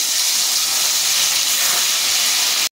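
Loud, dense hissing sizzle of fish frying in hot oil, steady and close throughout before cutting off abruptly.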